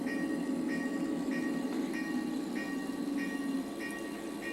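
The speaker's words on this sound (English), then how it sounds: "As the train eases to a stop at the station" A small-scale model train runs along a model railroad, a steady rumbling hum punctuated by evenly spaced light clicks of the wheels, close and continuous, with no voices.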